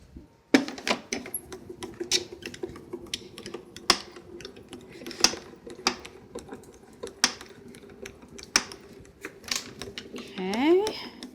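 A die-cutting machine cuts a paper flower frame with a series of clicky, ratcheting taps and mechanical rattles at a steady pace, close up, with a voice talking intermittently over it.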